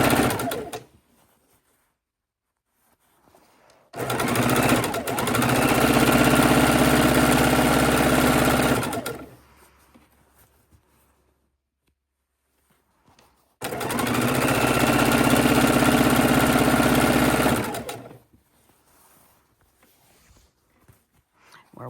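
A sewing machine stitches long quilt fabric strips in two sustained whirring runs of about five seconds each, loud and close, separated by quiet pauses with faint handling sounds.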